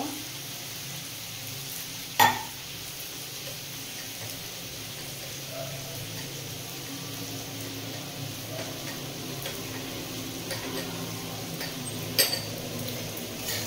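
Chopped tomato and other chilli paneer ingredients frying lightly in a pan, a steady soft sizzle with a couple of sharp utensil taps against the pan.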